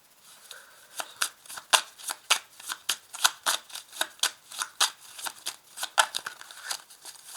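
Tarot cards are shuffled and laid down, giving a quick series of crisp, papery snaps and riffles at an irregular rhythm, close up and fairly quiet.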